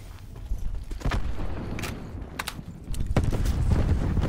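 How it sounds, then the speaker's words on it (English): Grenade blast and gunfire in a Call of Duty Blackout battle royale match on console, a few sharp bursts and booms spread over four seconds, with heavier rumbling toward the end. "Watch out, Dizzle, I threw a grenade."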